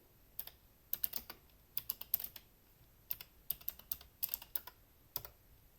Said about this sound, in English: so that if I type a command